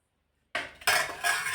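Thick urad dal batter for dal vada, mixed with ash gourd, beaten by hand in a bowl, giving close, loud wet slapping and clinking strokes in a short burst after silence.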